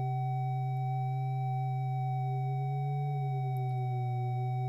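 Oscillators of an Analog Wave Twister synthesizer hold a steady tone with their tuning slightly offset. The pitches drift and beat against each other, heard alone and fairly quiet.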